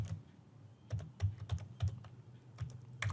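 Typing on a computer keyboard while writing code, with irregular bursts of sharp, close key clicks and short pauses between them, no talking.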